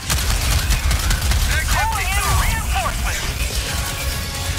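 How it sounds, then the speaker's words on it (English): Shotgun and other gunfire in the Starship Troopers video game, loud booming shots and clattering weapon mechanics mixed with chirping creature sounds and a dense battle din. "Gotta switch back to my shotgun."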